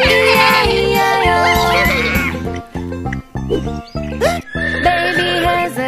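A cartoon horse neighs within a children's farm nursery-rhyme song, loud whinnying calls over a bouncy musical backing, with a sung voice imitating the neigh.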